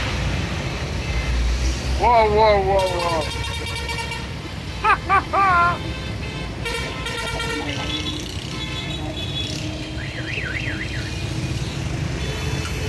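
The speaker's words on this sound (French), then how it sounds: "Et ça klaxonne." Car horns honk repeatedly in chaotic Karachi street traffic with no signals or traffic police, sounding in several long blasts and short toots over a rumbling road din, with a brief spoken exclamation.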